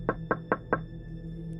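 Four loud, sharp knocks on a window come in a quick, evenly spaced series, followed by quiet room hum.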